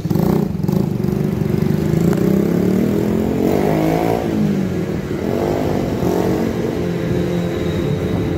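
A motorbike engine revs hard on a road in Corfu, loud and close, rising and falling in pitch through several surges, with no talk over it.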